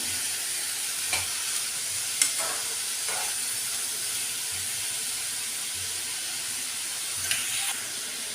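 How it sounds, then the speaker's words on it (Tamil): Steady sizzling hiss of bitter gourd sautéing in a pan, with occasional clinks and scrapes of a spoon stirring; no talking. "இப்போ நம்ம பாவக்காயை சேர்த்து ஒரு ரெண்டு நிமிஷம் வதக்கி விட்டுக்கலாம்"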